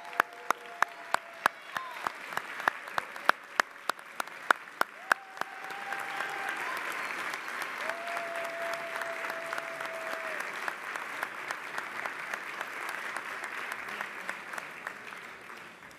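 Audience applause fills a city council meeting, beginning as scattered sharp claps and swelling into steady, sustained clapping across the room, with brief tonal whistles or squeaks and a few voices faintly underneath.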